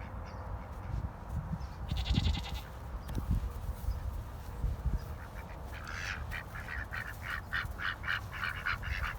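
Ducks quack in busy bursts over a low rumbling background, with a brief bleating call early on and a run of rapid quacks toward the end.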